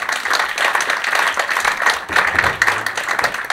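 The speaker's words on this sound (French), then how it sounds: "Vous pouvez l'applaudir." Dense applause fills a room as an audience claps together, loud and continuous throughout with no voices standing out.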